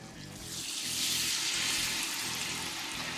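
Strong black coffee is poured into a hot pan of bacon grease and butter to deglaze it, a loud continuous sizzling hiss that swells and holds steady throughout.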